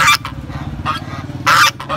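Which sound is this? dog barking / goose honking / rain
goose honking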